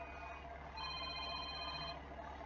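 A telephone rings with a steady electronic tone during a call from a scammer, faint and brief, with no voices over it.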